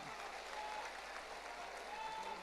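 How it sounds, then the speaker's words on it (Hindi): Audience at a religious gathering on a Dussehra ground in Guna claps in a dense, continuous burst of applause that holds steady throughout the short stretch. "तालियों की गड़गड़ाहट से इनका हम उत्साहवर्धन करेंगे"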